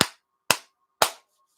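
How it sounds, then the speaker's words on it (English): Three firm, loud hand claps spaced about half a second apart, sharp and close in a quiet room, each ringing briefly before silence. "clap your hands together nice and firmly, nice and loud"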